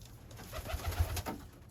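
Iraqi pigeons cooing softly and repeatedly in a small indoor loft, low burbling coos with a few louder pulses, close by with no talk.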